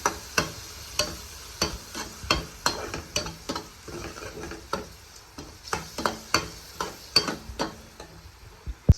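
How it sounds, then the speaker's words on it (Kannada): A spoon stirs a mixture after a tablespoon of curd is added, making a steady rhythm of sharp clinks and scrapes against the bowl, roughly two or three per second, close and fairly clear. "ಆಮೇಲೆ 1 ಟೇಬಲ್ ಸ್ಪೂನ್ ಕರ್ಡ್ ಹಾಕ್ಕೊಳ್ತಾ ಇದ್ದೀನಿ. ಚೆನ್ನಾಗಿ ಮಿಕ್ಸ್ ಮಾಡಬೇಕು."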